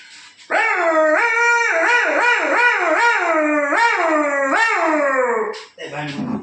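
A drawn-out, wavering dog-like howl with rising and falling pitch, sounding close and continuous for several seconds; it may be a person imitating a howl.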